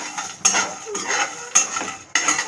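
Cashews, almonds and coriander seeds dry-roasting in a pan while being stirred, heard as repeated scraping and clinking bursts of utensil against metal in three or four close, moderately loud strokes with brief pauses between them.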